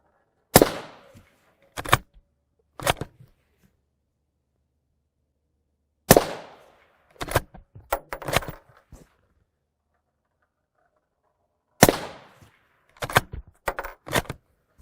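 Rifle shots of M855A1 rounds fired at an alumina and PE armor plate: loud, sharp cracks in three clusters, single reports and quick doublets and triplets separated by silent pauses, each with a short echoing tail.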